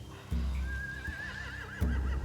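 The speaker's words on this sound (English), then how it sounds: "They have horses." A horse whinnies in The Walking Dead video game, one clear wavering neigh rising and falling over a low rumble, with dull thumps at the start and end.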